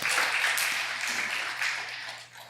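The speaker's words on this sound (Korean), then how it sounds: "영광의 박수를 드리겠습니다" A church congregation at Busan Seomun Church, gathered for the launch of a Korean pastors' choir, applauds in a dense, continuous wash of clapping over a low steady hum.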